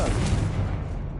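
A Confringo blasting spell goes off in the Hogwarts Legacy game as one loud, booming explosion that decays over about a second, with no talk over it.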